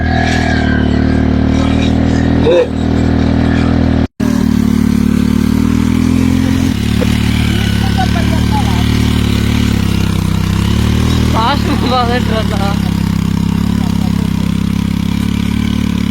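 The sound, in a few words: motor vehicle pulling a bladed weeding implement in a field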